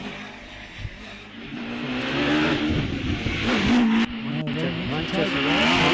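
A hillclimb race car powered by a 2.6 Cosworth engine rises in pitch as it accelerates at a British Hillclimb Championship event at Wiscombe Park, sounding fairly close, with commentary over it.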